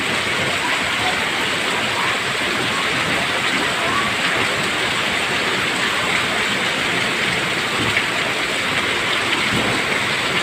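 Heavy rain pours down outside a shop onto flooded ground in a dense, unbroken roar, loud and close, with no letup for the whole stretch.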